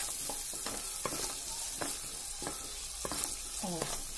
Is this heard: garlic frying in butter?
yes